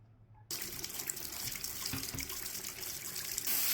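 Water gushes steadily from a shower head after a sudden start, a loud continuous spray with a few small knocks against the tub.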